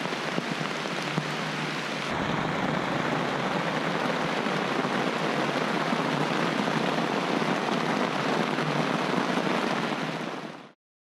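Heavy rain pours down steadily on the Congo forest, a dense, loud, unbroken hiss that runs for the whole stretch before cutting off abruptly.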